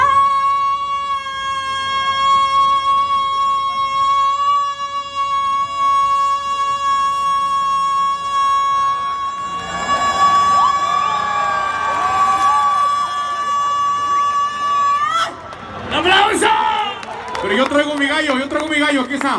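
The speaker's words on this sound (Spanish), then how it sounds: "nos va a gritar todo, a ver cuánto dura gritando gol" A woman holds a long, sustained shout of "goal" at a Mexico national team match viewing at Monterrey's Macroplaza, a steady loud voiced tone lasting about fifteen seconds before breaking into crowd cheering and shouts.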